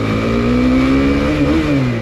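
Motorcycle engine revving steadily while riding through Liniers, a loud, close, continuous drone with a pitch that rises and wavers slightly.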